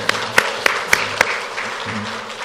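Church congregation clapping in thanks during a Korean service, a burst of applause with several sharp claps standing out near the start, then thinning out.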